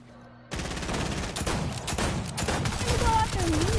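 Gunfire in the Fortnite video game breaks out abruptly after a quiet moment and continues as a dense, rapid volley of shots at close range, with voices talking over it.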